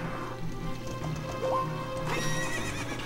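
Game horse Epona in Zelda: Ocarina of Time whinnies with a rising tone and breaks into clip-clopping hooves, the gallop sounding close and clear over the game's background.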